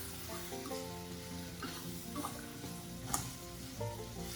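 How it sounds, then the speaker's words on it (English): Onion slices frying in a pan with giant river prawn, a soft, steady sizzle with light stirring and faint tonal sounds in the background. "Slice of a whole onion. We'll fry this with the prawn."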